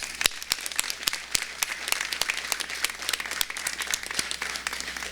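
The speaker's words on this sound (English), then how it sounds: "we need to give a big round of applause to the governor and the First Lady" A crowd at the Illinois State Fair ribbon cutting ceremony applauds the governor and First Lady, a brisk outdoor patter of many clapping hands with crisp individual claps standing out, moderately loud and continuing for several seconds.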